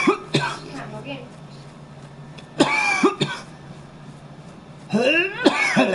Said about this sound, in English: Fuck this fucking COVID cough.